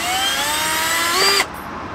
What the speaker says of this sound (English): Take your drill, stick it on.